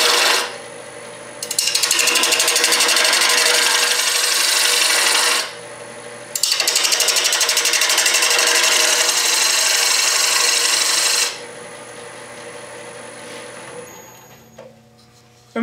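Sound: wood turning on a lathe, thinning a pocket mirror

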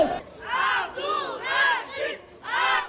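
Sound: wrestling fans cheering a wrestler's entrance

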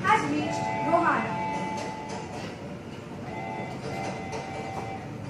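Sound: train arriving at station, in a school play

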